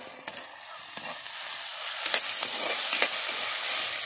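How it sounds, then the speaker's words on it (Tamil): Onions and tomatoes fry together in a pan, a close, continuous sizzle punctuated by several sharp spatula scrapes and stirs that grows slightly louder toward the end. "வெங்காயெல்லாம் நல்லா வதங்கிருச்சு."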